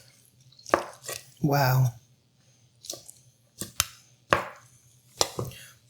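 A knife cuts across the grain of an oven-roasted chicken, giving several crisp, close chopping strokes spaced apart with quiet gaps between them; a brief exclamation is heard once.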